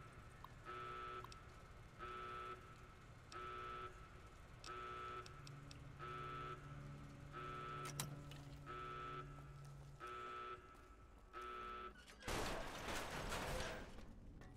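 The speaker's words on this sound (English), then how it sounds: "I gotta listen to this annoying buzzer" Repeated electronic buzzer bursts in Fallout New Vegas, about ten evenly spaced loud tones with a low hum beneath, ending in a rough burst of noise.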